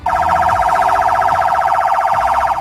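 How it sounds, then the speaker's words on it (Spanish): An ambulance siren in its mode for intersections and heavier traffic sounds as a very loud, close, rapid warbling yelp, the pitch trilling quickly and continuously throughout, with no talking. "Este sonido se utiliza cuando hay cruces o hay más tráfico."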